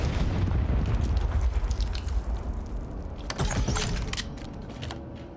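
A frag grenade detonates in a competitive video game match on a train-track map: a heavy, deep boom up front, then a rattling, metallic crackle of debris that slowly fades.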